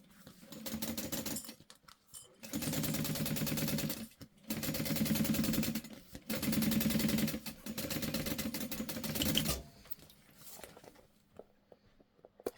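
A sewing machine top stitches an eighth of an inch along the folded side of a clear beauty bag in several bursts of rapid, even needle chatter, separated by short pauses, close and alone.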